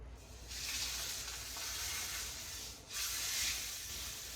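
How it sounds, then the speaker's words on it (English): Steady, loud sizzling of meat searing in a hot pan, a continuous crackling hiss with a brief dip midway before resuming. "Want to get a nice sear, nice sizzle on that."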